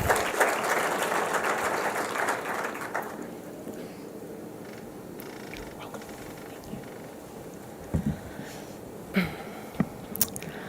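Audience applause at a financial policy launch event, a dense clapping crowd that fills the opening few seconds and then fades, leaving scattered claps, faint murmur and a few sharp knocks from the room.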